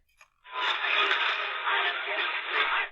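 Thin, tinny music plays from a Sangean SR-35 radio on AM (medium wave) in the evening, narrow and boxy in tone at a steady level, after a faint click.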